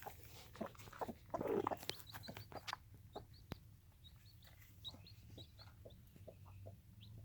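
Soft, irregular hen clucks with scattered scratching and rustling close by, over a low steady background hum.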